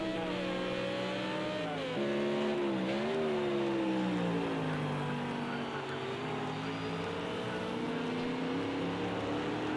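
GT1 race cars battling in Project CARS 2 at the Nürburgring GP, their engines droning and rising in pitch through gear changes, a loud continuous overlapping roar with shifting revs throughout.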